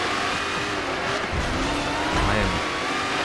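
Loud racing engine noise from the Forza video game fills the whole stretch, with revving, shifting engine pitch and tire squeals as the car pushes through a race.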